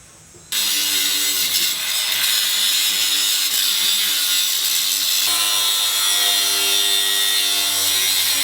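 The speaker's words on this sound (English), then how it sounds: "Hope I'm not the only one who uses a cutting wheel like a grinding disc" A power cutting wheel bites into metal mesh for a Duramax cowl hood, giving a loud, continuous, harsh grinding whine that starts abruptly and runs steadily, close by.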